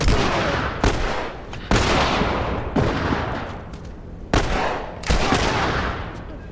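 Rapid bursts of loud gunfire echo through a fight in the video game The Last of Us. Several heavy volleys arrive in quick succession with brief gaps between them, and no talk is heard over them.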